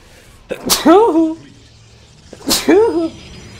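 Two sneezes about two seconds apart, each a sharp inhaled catch bursting into a loud, close nasal blast that trails off, with quiet room tone between them.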